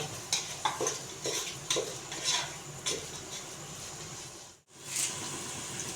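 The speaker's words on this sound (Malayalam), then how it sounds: "അതുപോലെ നന്നായി ഇളക്കി കൊടുക്കണം അടിയിൽ പിടിക്കാൻ പാടില്ല" Masala for tapioca biryani being stirred in a pan, with repeated close scraping strokes of a spoon over a soft sizzle, then a brief drop to near silence before the sizzle resumes.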